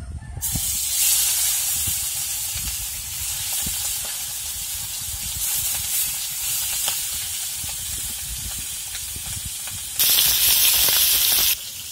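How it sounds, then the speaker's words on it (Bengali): Loud, continuous sizzling and hissing of salt-and-turmeric-coated rohu fish frying in hot oil, close up, with a sharper, brighter burst of hiss near the end; no voices. "মাছটা ভাজা হতে থাকুক"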